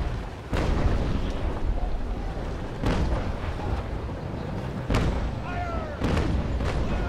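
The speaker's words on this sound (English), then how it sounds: "Mr. Gunn has now loaded the cannons with chain shot, and has been making a good job of putting holes in the brig's sails and rigging" Ship cannons firing chain shot in the naval combat game Naval Action, with several heavy booms spaced a second or two apart over a rumbling low roar of battle, with someone talking alongside.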